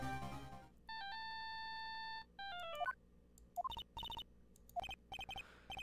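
Cell phone ringing in the Ace Attorney Justice for All game, a steady electronic ringtone tone followed by a falling chime and a series of short beeping blips, clear and close.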